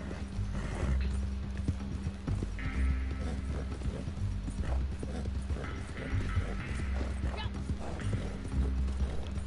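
A horse in Red Dead Online gallops with a steady, thudding hoofbeat rhythm, loud and close, with tack rattling and a low rumble underneath.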